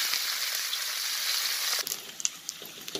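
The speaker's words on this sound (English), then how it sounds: "I'm going to fry my anchovies first." Anchovies (ikan bilis) frying in a heated wok, a loud, steady, bright hiss of oil that eases slightly partway through, with a few light scrapes and ticks, and no talking.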